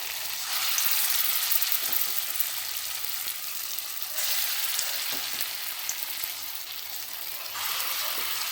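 Small lentil fritters seasoned with salt and turmeric fry in hot oil, giving a loud, continuous close sizzle that swells and eases in waves as more batter is added, with no talking.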